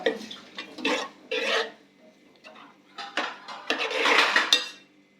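A spoon scrapes and clatters against a pan of cooking food in short, uneven bursts of stirring, with quiet gaps between strokes.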